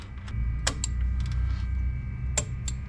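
Several sharp ratchet clicks and metallic ticks over a low steady hum while a bolt is tightened to torque on the power transfer unit of a 2014 Ford Escape, spaced irregularly and heard up close.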